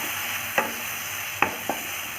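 A spoon scrapes through mushroom masala frying in a pan, giving a few sharp stirring knocks over a constant close sizzle, with no voices.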